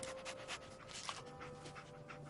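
Dogmeat, a dog in the video game Fallout 4, panting with quick rhythmic breaths, close and soft against a low humming game ambience.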